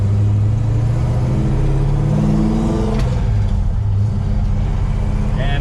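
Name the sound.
1968 Cutlass car driving with manual clutch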